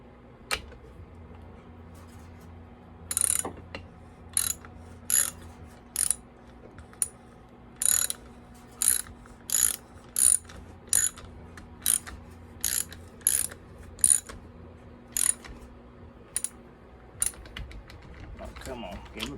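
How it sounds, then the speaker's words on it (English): A ratchet working a socket on a McCulloch SP105 chainsaw, a long run of crisp clicking bursts in an uneven rhythm, close and distinct over a low background hum. "Get my ratchet on it."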